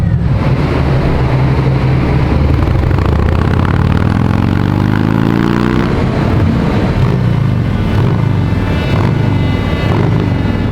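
A Harley-Davidson motorcycle engine revs hard and steadily on a dynamometer roller, its pitch sweeping upward mid-clip then settling, loud and close throughout with a rumbling low drone.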